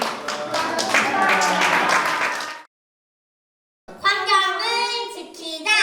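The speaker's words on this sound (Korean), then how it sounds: "박수님과 함께 하겠습니다." Audience applause at a children's environmental concert, a dense burst of clapping lasting a couple of seconds, then a sudden silence, followed by children's voices speaking and chanting.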